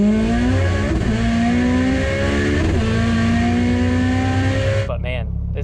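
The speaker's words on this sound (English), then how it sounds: "But man, that's dog box." A 1400 HP Audi TT RS with a dog box gearbox accelerates hard on the street, its engine climbing through quick, loud gear changes before briefly dropping off near the end; someone talks over it.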